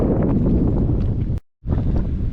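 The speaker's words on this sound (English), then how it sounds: "It's very windy. I nearly lost my hat a second ago" Strong wind on the Col de Balme mountain pass near Chamonix roars and buffets the microphone in loud, rumbling gusts, cutting out abruptly for a moment before blasting again.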